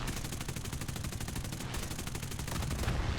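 Sustained anti-aircraft fire in War Thunder, a dense, rapid stream of repeated shots hammering steadily and loudly for several seconds with no pause, heard alone without any talk.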